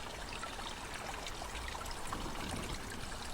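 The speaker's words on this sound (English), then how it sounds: "you can really hear the sound of the water" Steady, soft trickle of water running through a small culvert under an old railway line, constant and unbroken, faint with no voices.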